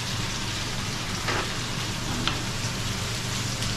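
Food frying in a pan gives a steady, dense sizzle and crackle throughout, close and continuous with no talking.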